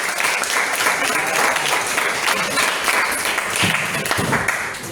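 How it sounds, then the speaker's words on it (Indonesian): Classroom applause for a student group that has just finished its presentation: dense, lively clapping from many hands, steady and fairly loud throughout, easing slightly at the end. "berikan tepuk tangan untuk kelompok 3 yang sudah mempresentasikan tugasnya"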